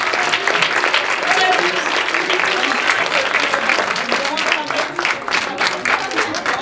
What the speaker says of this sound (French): je voudrais qu'on les remercie, voilà, et qu'on les applaudisse bien fort